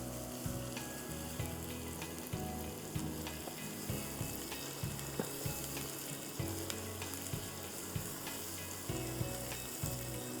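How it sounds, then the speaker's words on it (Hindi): Chicken mince frying in a karahi, a dense continuous sizzle with rhythmic scraping and knocking from stirring, close and steady for the whole stretch. "इतनी देर इसको हम फ्राई करेंगे कि ये पिंक से कीमा वाइट हो जाए।"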